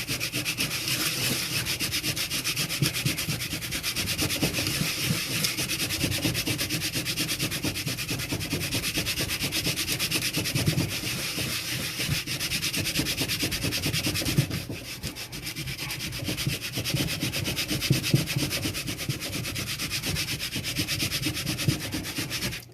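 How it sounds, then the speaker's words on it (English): A strip of cork leather is rubbed hard against a sanding block in an abrasion test, giving a steady, rapid back-and-forth scraping that runs continuously at close range with only a brief dip partway through. "I've just added it to the sanding block. And simply for the sake of completeness, I am going to beat the hell out of it."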